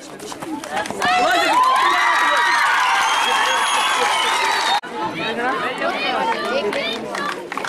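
At a block-level sports competition held in 2018, a crowd claps and cheers loudly for several seconds with many voices shouting, then breaks into scattered claps and chatter.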